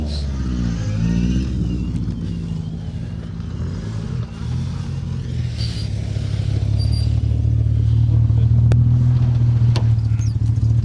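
A Lotus Cortina rally car on the RAC Rally runs with a steady, loud engine drone that rises slightly in pitch as it accelerates, heard from inside or very near the car over about eleven seconds.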